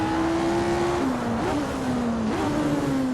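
Lotus 49 race car engine in the Assetto Corsa racing game, a steady loud high-pitched drone that holds, drops on upshifts near one and two seconds, then climbs again, with no talking.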